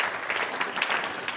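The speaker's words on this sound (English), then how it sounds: "Big round of applause." Conference audience at AgentCon 2025 in Utrecht bursts into dense, steady applause after an MCP demo, a close, full wash of clapping with no voices over it.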